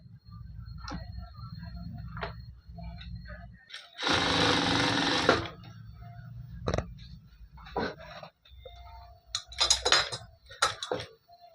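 A sewing machine stitching blouse piping fabric, with a steady low mechanical hum, one loud burst of fast stitching, and scattered ticks and clicks around it, close and without talk.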